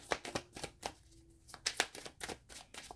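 A deck of tarot cards is shuffled close up, producing a quick series of crisp riffling flicks and soft slaps with a brief pause midway.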